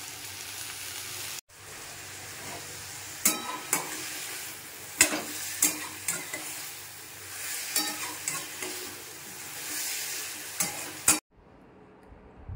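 Turmeric, chili powder and Kashmiri chili frying in a pan as they are stirred in a home kitchen: a steady sizzle under repeated scraping clicks of the spoon, fairly close, with no talk.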